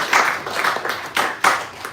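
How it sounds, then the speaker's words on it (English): A few people clap at a Sunday group discussion, making about five soft, separate hand claps spaced unevenly in a quiet room. "Oh yeah, clap."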